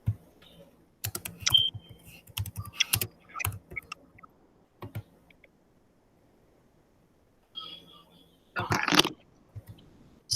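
Fingers tap a computer keyboard in short, uneven bursts of clicks, with quiet pauses between runs and a final flurry near the end, close and fairly crisp.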